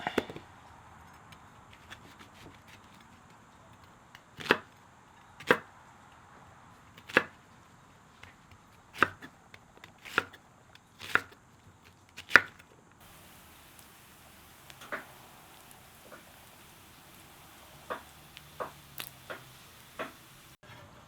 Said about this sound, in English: let's get this onion chopped up.